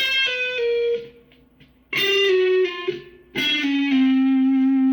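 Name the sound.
guitar playing chromatic passing tones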